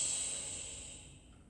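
A person exhales slowly during a Pilates breathing exercise, a soft, close breathy hiss that fades out over about a second and a half.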